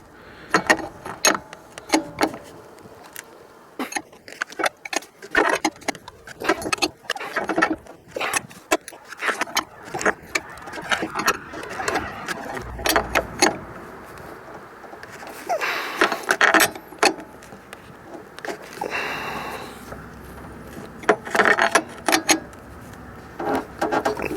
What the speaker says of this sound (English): I'm using the wrench on the sensor to actually snug it down.